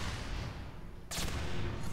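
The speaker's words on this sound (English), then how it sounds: "Now we get into this bunker to watch these innocent turrets explode" Turrets exploding in Portal 2, a low rumbling roar of blasts followed by a sudden sharp explosive burst midway, loud and close with no talking.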